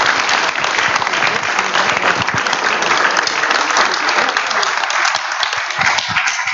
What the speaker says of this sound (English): Would you please give them all a hand of applause